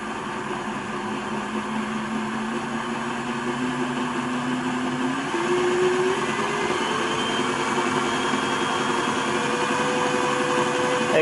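A Hatton's P Class model locomotive runs up to top speed, its motor whine climbing steadily in pitch with a jump midway, over a continuous rolling hum that stays close and fairly loud.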